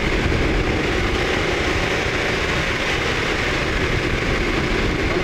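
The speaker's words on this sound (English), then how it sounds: "we want to go up to 2500 for a few seconds and see what happens" A car engine, with a mass airflow sensor fault code P0101, held at a steady 2500 rpm, producing a loud continuous roar with no change in pitch and no talking.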